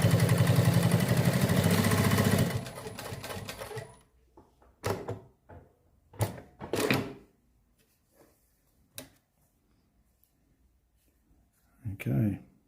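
A PROSEW 1933B walking foot sewing machine runs a test stitch, giving a loud dense mechanical chatter for a couple of seconds that then stops, followed by scattered clicks and handling knocks with someone speaking between them.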